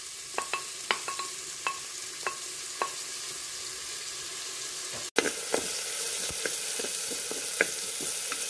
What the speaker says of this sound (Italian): Quando l'olio è caldo, aggiungo lo speck.